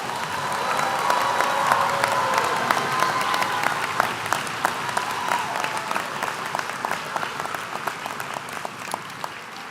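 Large audience applauding at a college commencement ceremony, dense sustained clapping that builds and then slowly thins out.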